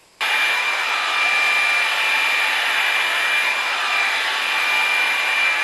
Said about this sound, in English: for a standard hairdryer, not in comparison to the Dyson, then I quite like this one